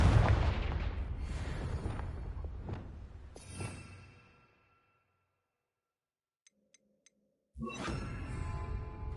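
A Confringo blasting spell explodes against pumpkins in a Harry Potter video game, booming loudly and rumbling away over several seconds before near-silence, a few faint chimes, then another burst of blasts.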